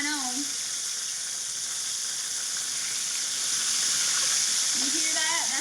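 Southern fried chicken frying in oil over medium heat makes a steady, loud sizzle and crackle close by, continuous throughout, with a voice briefly audible at the start and end.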